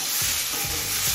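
Broccoli fries over a medium flame with a close, steady sizzle, while three quick spatula scrapes land at an even pace across the pan.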